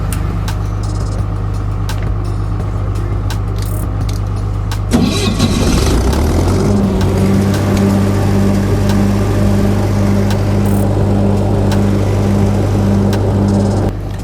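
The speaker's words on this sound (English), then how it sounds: "So I'm about to crank my machine, see if it cranks on the first time." In 10°F cold, a Lincoln SA200 welding machine engine cranks with a whirring starter for several seconds, catches abruptly, then settles into a loud, steady, rumbling idle close by.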